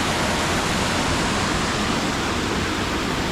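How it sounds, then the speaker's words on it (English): A small waterfall on a forest trail in Pisgah National Forest, a loud, steady broadband rush of falling water heard close up and alone. "Got a beautiful little fall right here."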